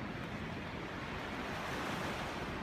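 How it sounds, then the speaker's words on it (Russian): February sea waves wash onto a shore in a continuous broad rush of surf, steady and fairly soft, with some wind noise and no voices. "Море в феврале"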